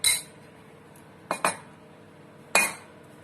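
A spoon clinks against a bowl while mixing stiff almond flour batter: one sharp clink at the start, a quick pair near the middle, then another toward the end, over a quiet background.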